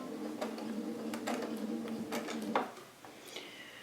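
A sewing machine backstitches along quilt binding with a short run of quick mechanical clatters and taps, close and moderately loud, ending with a brief sharper click before quieter handling noise.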